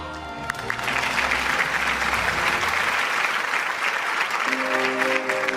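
Loud, sustained applause from an audience at an annual award show, welcoming a singer to the stage, steady and dense throughout with a brief musical tone sounding under it at the start.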